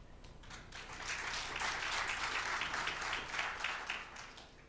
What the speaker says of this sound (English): This is worth applauding